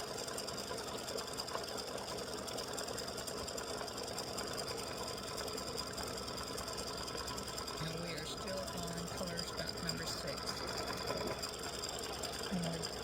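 An embroidery machine satin-stitches the outline of a bunny peep earring in a steady, rapid mechanical chatter that runs continuously throughout, with faint background noise underneath.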